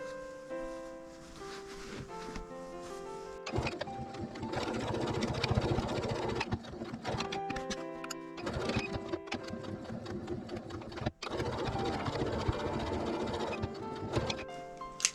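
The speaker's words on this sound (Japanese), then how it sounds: "裏も同じように4箇所縫っていきます。" Sewing machine stitching patchwork fabric for a hexagon tote bag, several bursts of fast rattling stitches separated by short pauses and handling, close by, over soft background music.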